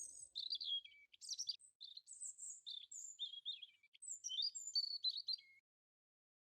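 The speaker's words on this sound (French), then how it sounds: "il y a des petits oiseaux qui sont ici, donc vraiment ici il y a une ambiance particulière" Small birds chirp inside the vaulted stone Orangerie of the Palace of Versailles, a rapid run of bright, high tweets and trills, clear and fairly close, fading to quiet at the end with no voices.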